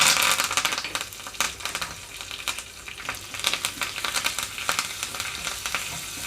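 Curry leaves and tempering spices crackle in hot oil, producing a loud, spattering sizzle with rapid sharp pops throughout.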